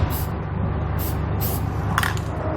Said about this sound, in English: what I recommend doing is getting some spray paint, just kind of covering that up